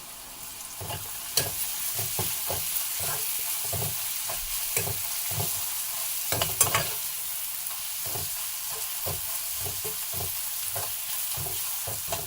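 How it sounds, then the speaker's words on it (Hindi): Garlic chutney with spices sizzles steadily as it fries in a pan, while a spoon stirs and scrapes in a repeated rhythm throughout. "अब इसको हम इसमें फ्राई करेंगे"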